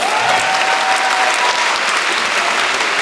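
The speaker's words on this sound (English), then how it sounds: "let's give them a warm round of applause" Audience applause for a philharmonic orchestra's performers at a concert, a continuous even roar of many hands clapping throughout, loud and close with no pauses.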